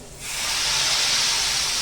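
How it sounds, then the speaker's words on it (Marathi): Hot phodni (tempering) poured onto a thin fenugreek (methi) curry bursts into a loud, close, sustained hiss and sizzle after a brief quiet start, holding steady to the end. "फोडणी आपण ह्याच्यावर ओतूया"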